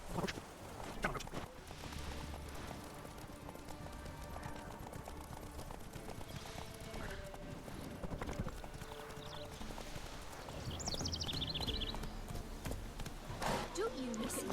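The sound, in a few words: horse Roach walking, from the video game Witcher 3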